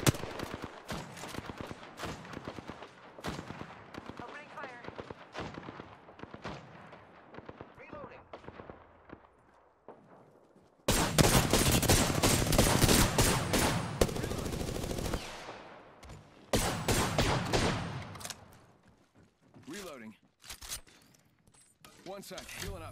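Gunfire in the video game Apex Legends, rapid automatic bursts and single shots in a loose rhythm, with a dense sustained volley midway before sparser shots return.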